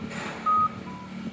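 A single short electronic beep sounds once, fairly clear, followed by a fainter second tone, over low street background noise on a hot humid downtown walk.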